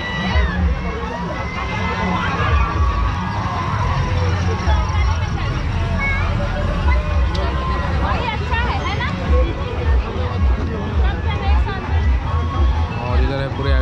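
Constant crowd hubbub fills a busy Navratri temple fair beside the swings, loud and close, with someone talking over the dense babble throughout.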